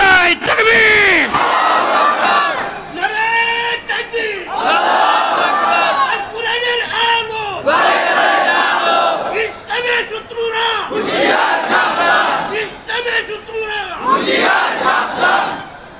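A large crowd answers a preacher's call with repeated chants of Allahu Akbar, loud massed voices rising in rhythmic waves across the whole stretch, several swelling shouts in succession.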